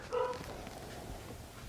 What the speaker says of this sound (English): Sorry for the dogs in that.